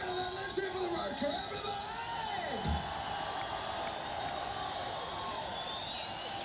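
Large concert crowd at a 1985 show in Irvine cheering for the road crew, a steady loud roar of whoops and yells with a rising shout near the middle, continuous throughout.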